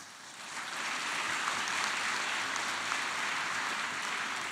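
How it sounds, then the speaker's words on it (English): Sustained applause from a convocation audience honoring the graduates' parents, a dense steady wash of many hands clapping at once, filling the whole stretch without pause at moderate volume. "let's give a big applause to your parents"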